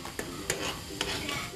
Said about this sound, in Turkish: Kızarmaya başladı bu arada soğanlarımız.